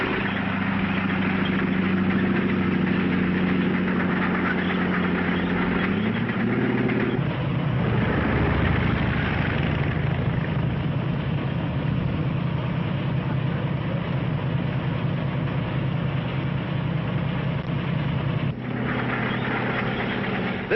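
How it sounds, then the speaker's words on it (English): WW2 American armored vehicles and light tanks move forward with a continuous rumbling engine drone. The tone shifts partway through as the engines change pitch and load, and the noise stays loud throughout. "Our armored vehicles move toward the forward positions."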